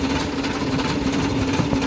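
A tractor engine runs on a farm field, a steady low mechanical hum with a faint droning tone, moderately quiet and unbroken, with no voices.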